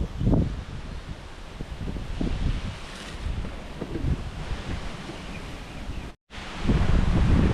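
Strong wind buffets the microphone in steady, roaring gusts, with rustling and a brief dropout before the blowing surges back louder.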